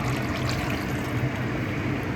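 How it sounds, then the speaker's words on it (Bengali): Rinse water from a bowl poured into a simmering hilsa fish curry, a steady close liquid pour and splash that runs continuously without pause, with no talking. "বাটিটা ধুয়ে জল দিয়ে দিলাম তেলটা ছিল"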